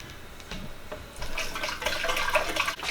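Hot tap water poured into a PVC drain pipe, a steady close pouring and splashing hiss that builds after the first second and runs on alone.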